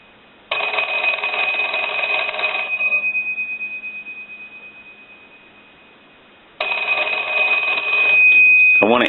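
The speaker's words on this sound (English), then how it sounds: "we want to go ahead and ring this telephone" An AE Monophone rotary desk telephone under repair rings loud and close in two long bursts of harsh bell clatter, with a fading tone between them and a short clunk at the end.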